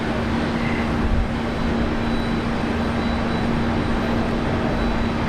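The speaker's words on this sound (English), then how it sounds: "Jetstar A321 Neo." Steady broadband roar of a Jetstar Airbus A321neo airliner at Brisbane Airport, continuous and fairly loud with a sustained engine hum, no voices over it.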